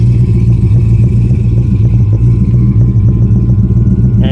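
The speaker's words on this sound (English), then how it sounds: "Has a full twin stainless exhaust system." A Holden Commodore VH wagon engine runs through a full twin stainless exhaust with handmade mufflers, a loud, deep, steady rumble with a slightly loping pulse, heard close and alone.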